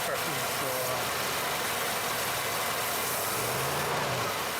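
A Ford Ranchero engine running steadily while the throttle is opened slowly during a tune-up, a continuous mid-pitched engine drone with a gradual rise, recorded close and loud.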